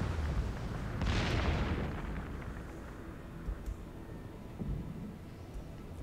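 Torpedo launches and explosions from a Wickes destroyer in World of Warships, a deep booming burst near the start that rolls away into a low rumble, followed by a couple of softer distant thuds.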